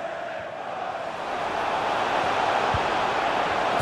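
A stadium crowd in the FIFA 23 football video game swells into a steady, dense roar of cheering as a shot chance builds, growing louder across the stretch with no talk over it.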